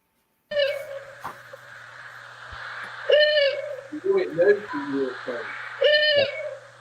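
A played recording of a barred owl calling, with a series of wavering hoots and whinnying notes, clear and fairly loud, with brief quieter murmurs between the calls.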